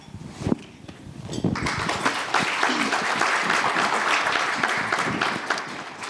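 Audience applause at a national network convening, starting with a few scattered claps and footsteps, then swelling into steady, fairly loud clapping from a roomful of people.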